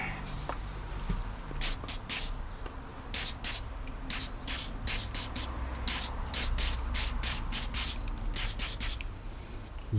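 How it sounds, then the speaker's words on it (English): Short bursts of throttle body cleaner sprayed from an aerosol can onto a BMW E46/E39 engine part, with repeated hissing puffs in irregular clusters, close and moderately loud over low background noise. "Just quick going over with some throttle body cleaner."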